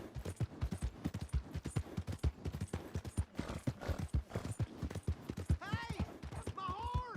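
Horse hooves clip-clop in a steady rhythm as the horse draws near in the Western video game Red Dead Redemption 2, with snorts or whinnies toward the end.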